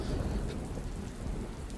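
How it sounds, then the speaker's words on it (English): Rain pouring steadily from a storm cloud, with a dense, continuous wash of drops and low rumbling thunder running through the whole stretch, no voices. "there's a storm cloud over your head"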